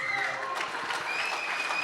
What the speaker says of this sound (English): So please give him a round of applause